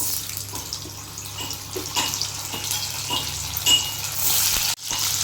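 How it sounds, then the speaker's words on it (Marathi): Paneer cubes frying in oil in a pan, giving a steady close sizzle and hiss with no talking. "आता पनीरला मी पहिले फ्राय करून घेऊया"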